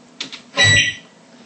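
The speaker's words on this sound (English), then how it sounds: "a microwave beep." Two faint clicks followed by a single short electronic beep from an appliance, fairly loud and close, then quiet.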